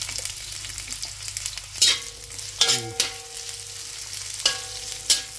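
Garlic and onions sauté together in a pan with a steady close sizzle, broken by a few sharp scrapes and knocks of a stirring utensil, and no voices.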